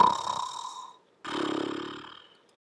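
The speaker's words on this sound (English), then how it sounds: "the man closed his eyes and started to snore" A man snores in two drawn-out breaths, a rasping inhale followed after a short pause by a deeper rumbling one, close and fairly loud with no talk.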